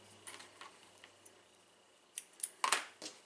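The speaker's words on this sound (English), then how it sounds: "trim some of the threads that are hanging" Small scissors make a few quiet, crisp snips while trimming loose hanging threads from embroidery stabilizer on an in-the-hoop luggage tag. The cuts come in a close cluster after a near-silent stretch.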